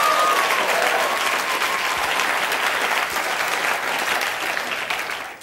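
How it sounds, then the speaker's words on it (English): Sustained applause from a comedy audience for a stand-up comedian on his first TV appearance, a steady, dense wash of clapping that holds for several seconds and eases slightly at the end. "are you really clapping for me?"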